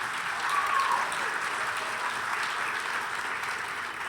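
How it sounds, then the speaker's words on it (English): A concert audience at a glee show gives a warm, steady round of applause, a dense wash of clapping from a sizable crowd that stays even throughout, with a faint voice or cheer briefly audible early on. "A warm round of applause for them"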